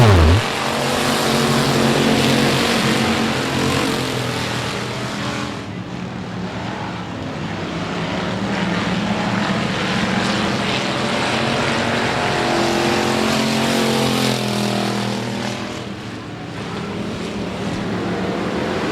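A pack of race cars on the last laps at I-37 Speedway, two running side by side, thunders past the flag stand with loud, steady engine roar that swells and dips as they go by.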